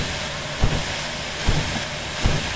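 A steam locomotive in Derail Valley runs with its cylinder drains open, giving a continuous broad hiss of venting steam broken by three evenly spaced low chuffs or thumps.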